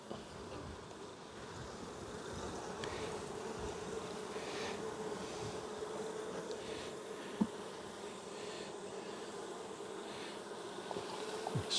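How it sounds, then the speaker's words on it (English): A dense, steady swarm of honeybees buzzes close by as the bees are rolled down into a measuring cup, the hum continuous with a few small knocks and bumps. "Slide it down and roll the bees, and they just jump right into the cup."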